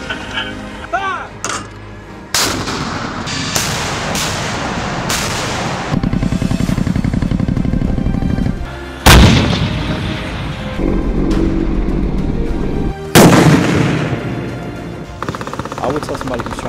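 Artillery guns fire during National Guard training, sending loud booming blasts and sharp reports over a rumbling, droning background while voices shout and talk between the shots.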